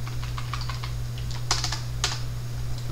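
Fast, uneven keystrokes clatter on a computer keyboard while text is typed into a Garry's Mod Expression 2 string display, with a couple of louder key hits standing out over a steady low hum.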